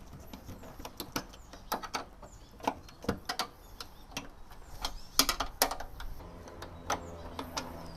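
Socket wrench or crescent wrench loosening a bolt on a Gozney Dome pizza oven, irregular sharp clicks and ratcheting ticks close up, uneven in rhythm, with no talking.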